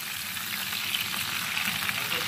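A Peshawari chapli kabab frying in a pan just after being flipped, giving a steady, close, bright sizzle that holds evenly throughout with no talking.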